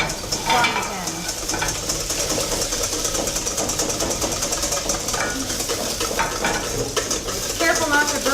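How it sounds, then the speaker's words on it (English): About a tablespoon of butter sizzles in a very hot frying pan in a Lyon restaurant kitchen, a steady, close, hissing crackle with occasional clinks of utensils. "he's putting about a tablespoon of butter into a very hot frying pan."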